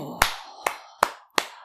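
A single person claps their palms together lightly four times, crisp evenly spaced claps close by in a quiet room.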